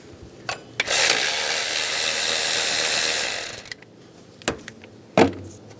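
A power tool spins out an alternator bolt on a 2007-2017 Ford Expedition in one loud, steady whir of about three seconds, framed by a few sharp metallic clicks and clunks before and after.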